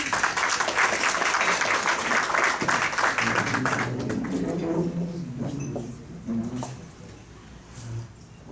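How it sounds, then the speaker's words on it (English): Audience applause at a Rotary Club luncheon meeting, a dense burst of clapping that thins and fades over several seconds, with a few voices murmuring as it dies down. "So please give a round of applause."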